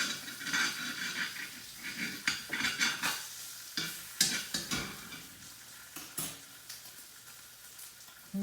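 Kale sautéing in bacon in a pan gives a soft sizzle under irregular stirring scrapes and utensil clatter against the pan, with sharp knocks scattered throughout.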